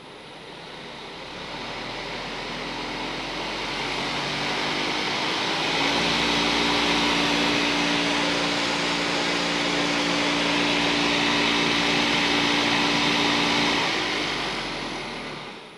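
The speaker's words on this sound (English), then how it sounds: "the noise you hear is the air flowing through the motor and cooling the motor" An R 702 V food processor motor running steadily, air rushing through to cool it, a smooth broad whir with a low hum that rises slightly after a few seconds and holds, alone with no talking.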